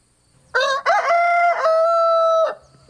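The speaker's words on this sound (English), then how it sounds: "that crow is a challenge to all the other roosters in hearing distance" A rooster lets out a single loud, close cock-a-doodle-doo crow, rising sharply and then holding a long, strained final note before stopping.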